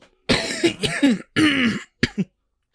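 A person coughs in a few harsh, loud bursts, close by, with a short pause before a final pair of coughs.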